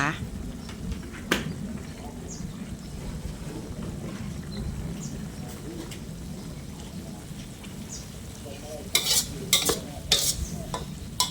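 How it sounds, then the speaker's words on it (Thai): Long beans stir-fried with red curry paste and pork, a steady sizzle and scrape of stirring in the pan running throughout, with a few sharper clatters near the end. "ผัดถั่วให้สุกนะคะ"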